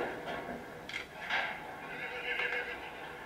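A bay colt calls out with repeated high, shaky whinnies from inside a trailer as it drives away, with hoof clatter and road rumble underneath.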